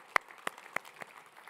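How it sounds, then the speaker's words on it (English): A few scattered claps from a church congregation at a Sunday service, four sharp distinct hits spaced about a third of a second apart, fairly quiet and thin rather than a full round of applause. "let's give that one a hand"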